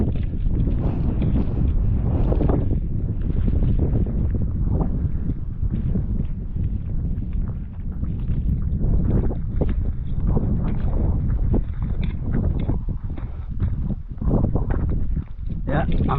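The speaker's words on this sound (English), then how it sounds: "It's quite windy, so I hope you can hear what I'm saying." Strong wind blows across an open rural walking trail, buffeting the microphone with loud, continuous rumbling gusts that dominate the scene.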